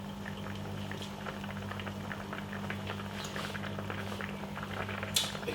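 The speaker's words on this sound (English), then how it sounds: "Make it boil for a few seconds." Couscous cooking liquid boiling in a pot, a steady close bubbling simmer with a constant low hum underneath and a brief sharper clink near the end.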